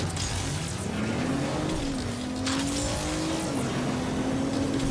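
A car engine in the video game Agents of Mayhem, a steady loud drone that rises and shifts in pitch as the vehicle drives and accelerates, heard alone over a continuous road rumble.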